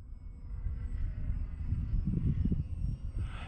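A small F 803 Skylark model airplane flies overhead, its engine giving a steady, fairly quiet droning hum that swells slightly midway, with no one talking.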